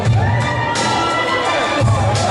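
A wrestling crowd at a live show cheers loudly and shouts approval in a dense, close roar, with bursts of yells swelling and dipping across a couple of seconds.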